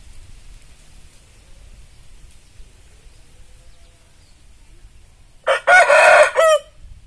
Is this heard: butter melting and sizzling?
no